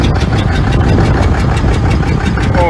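A 6.7L Cummins diesel engine with extreme blow-by runs loud and near, a rough, chugging idle with rapid rhythmic knocking pulses and a steady hissing breath over it.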